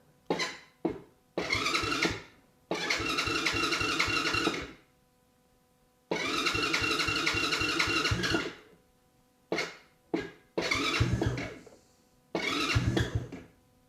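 A Coleman AT125UT youth ATV, choke flipped up, is cranked on a cold day. Close, loud starter bursts of uneven length come one after another with short silent pauses between them, the engine struggling without catching, and no voices are heard.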